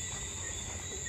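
Faint steady insect buzzing outdoors among trees and flowers at a Jamaica resort, a continuous high-pitched drone with no voices.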